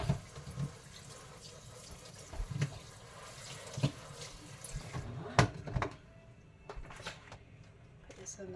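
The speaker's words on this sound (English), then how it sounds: "I hand wash all my dishes." Tap water runs into a kitchen sink while dishes and a small metal bowl are washed by hand. Close splashing and clinks are broken by pauses, and the flow stops partway, leaving sparse knocks and clatter.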